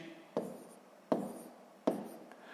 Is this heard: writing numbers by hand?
yes